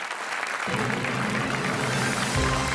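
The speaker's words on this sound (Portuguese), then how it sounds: "E um aplauso quer para a Isabel, quer para o Tiago" Studio audience at a Portuguese TV game show bursts into sustained applause after a pair of contestants wins 1000 euros, the dense clapping steady and loud throughout and swelling slightly near the end.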